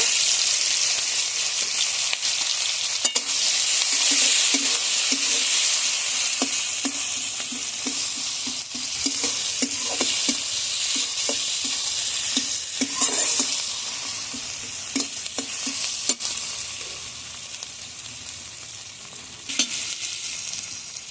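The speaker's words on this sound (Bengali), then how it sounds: "ওই তেলের মধ্যে এখন আমি পেঁয়াজ কুচি দিয়ে দেব" Chopped onion sizzles steadily in hot oil in a home kitchen, with potatoes fried just beforehand, the frying hiss loud and continuous with occasional stirring clicks and scrapes throughout.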